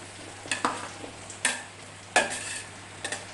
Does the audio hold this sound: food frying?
yes